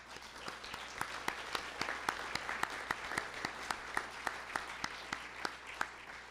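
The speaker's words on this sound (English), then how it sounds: "Can we give a quick applause for the Lakeside staff?" Audience at a Lakeside property owners' association meeting claps steadily for the staff, a moderate, even applause heard from within the room, sustained throughout.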